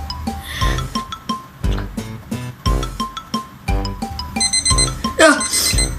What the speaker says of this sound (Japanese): タイマー終わっちゃいました。